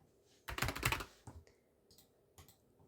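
A burst of fast keystrokes on a computer keyboard, close and fairly quiet, followed by a few scattered single taps, with no talk.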